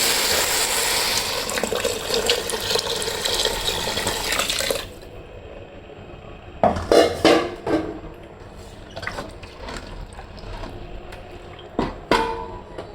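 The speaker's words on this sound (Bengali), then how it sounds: "তো আমি পানিটা অ্যাড করে দিচ্ছি" Water poured into a rice cooker pot for pulao, a steady splashing pour for several seconds, then quieter clinks and knocks of the pot.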